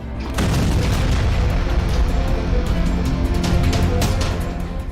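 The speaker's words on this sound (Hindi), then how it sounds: "फिर जब ड्रोन धमाका हुआ" A Ukrainian drone blows up at a Romanian port, producing a loud, sustained rumbling blast with crackling debris that holds steady for several seconds after a sharp onset.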